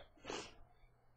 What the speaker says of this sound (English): Apologize, sneezing a video.